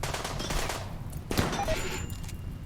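Short bursts of automatic gunfire in RimWorld rattle close and loud, followed by a sharp impact and then quieter game effects.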